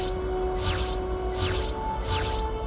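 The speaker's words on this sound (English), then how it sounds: "that noise you hear is the weapons being transported away" A transporter-style weapon-switch effect from the Star Trek Elite Force video game repeats three times, each a shimmering sweep spaced evenly over a low, steady background hum.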